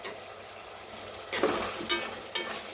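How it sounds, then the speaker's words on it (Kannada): Chicken being stirred in a hot pan with ginger garlic paste, garam masala and pepper powder, a steady soft sizzle broken by a few louder scraping stirs near the end. "ಇವಾಗೆಲ್ಲ ಚೆನ್ನಾಗಿ ಇನ್ನೊಂದ್ಸರಿ ತಿರ್ಗಿಸೋಣ"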